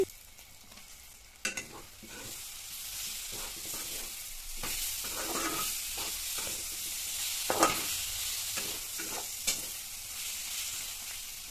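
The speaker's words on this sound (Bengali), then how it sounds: "এখন অল্প একটু জল দিয়ে নাড়াচাড়া করে টমেটোগুলোকে কষিয়ে নেব" Chopped tomatoes stir-fried with spices in a pan, a continuous sizzle broken by repeated scrapes and knocks of a spatula being pushed around, close and moderately loud with no voices.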